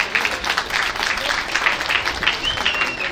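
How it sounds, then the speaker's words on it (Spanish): A crowd claps and cheers continuously at a breakdancing battle, a dense burst of applause mixed with voices and shouts. "¡Unos aplausos fuertes,"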